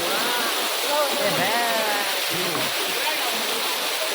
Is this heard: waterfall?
yes